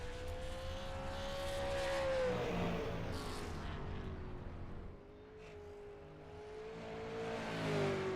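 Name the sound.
race car engine on track, from a sim racing game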